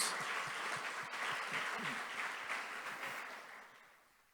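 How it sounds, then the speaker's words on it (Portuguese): A church congregation applauds during a service, a steady dense wash of clapping that fills the room and slowly fades out toward the end. "Pode aplaudir ao Senhor mais uma vez"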